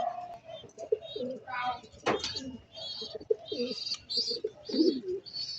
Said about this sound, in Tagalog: Yan mga kaibon, mga Stanley Boy, yung pangatlong ibong ko.